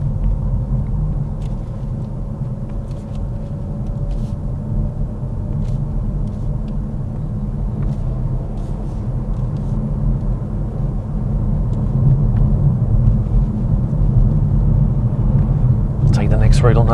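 A car on a narrow road during a mock driving test, a steady low engine rumble and road noise throughout at safe speed, with an instructor's voice talking over it.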